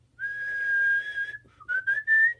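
A person whistles a clear, sustained tone that glides slightly, pauses briefly, then returns with a few short whistled bursts, close and alone against a quiet background.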